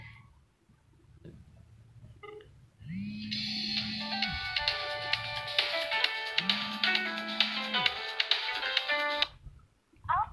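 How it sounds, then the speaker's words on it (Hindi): An outgoing phone call rings through a mobile handset, two long buzzing ring pulses of about a second and a half each separated by a pause, fairly quiet, with tapping and faint background noise around them. "घंटी जा रही है"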